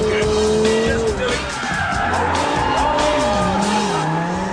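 A Lamborghini Gallardo slides with its tires squealing loudly and continuously, the engine note rising and falling beneath the screech while a voice speaks over it.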